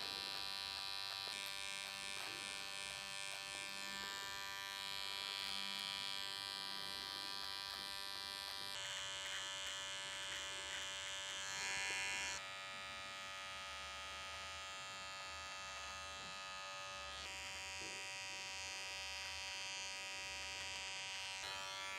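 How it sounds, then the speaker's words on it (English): An electric beard trimmer buzzes steadily as it edges and trims a beard, the faint, close hum shifting in pitch as the blade presses against the hair, with no talking. "Just gonna use the corner of the trimmer here."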